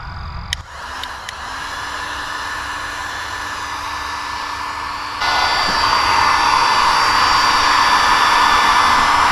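Heat gun on level 2 warming a boat trailer guide pole for bending, a steady blowing roar after a brief click at switch-on, growing louder and hissier partway through as the airflow shifts.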